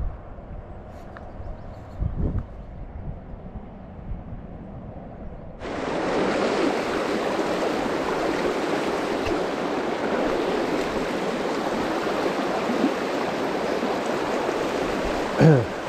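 Water rushing over a weir on a Scottish river, a broad steady roar that begins abruptly after a few seconds of quieter riverside ambience and then holds loud and close.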